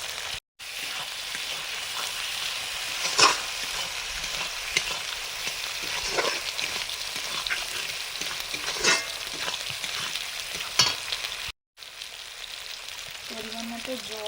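Fried potatoes stirred into bubbling masala for a fish curry, with a continuous close sizzle and repeated spatula scrapes against the pan at an irregular pace.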